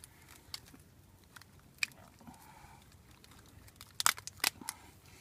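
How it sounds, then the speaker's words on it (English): Whole crabs are snapped in half by hand while being cleaned, giving a few faint scattered cracks early on and then a tight cluster of sharp, close crunching snaps near the end, with no talking. "so I just break them in half"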